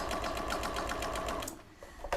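A sewing machine stitching a small fabric box pouch, a fast, even mechanical whir with a rapid needle rhythm that stops near the end, close by.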